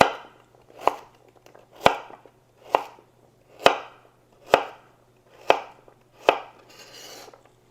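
A knife chops vegetables into bite-sized pieces on a cutting board for a spicy Latin chicken pot pie. Eight crisp, evenly spaced cuts sound close and clear in a quiet kitchen, with a soft scrape at the end.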